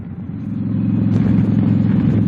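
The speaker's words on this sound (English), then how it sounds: "a car just passed me flashing his lights" A car rumbles past on the road, a steady low engine drone that swells slightly and holds loud and close for a couple of seconds, with no talking.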